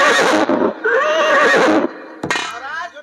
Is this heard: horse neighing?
yes